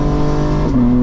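A 2025 BMW M4 Competition xDrive with ZF automatic transmission drops from fourth to third gear, a loud, close engine drone whose pitch jumps upward as the downshift lands.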